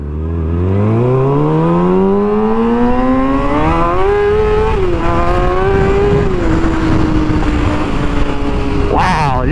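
A motorcycle accelerates hard from a green light on a very windy day, its engine whine climbing steadily in pitch and then levelling off through gear changes, loud and close under a constant roar of wind buffeting.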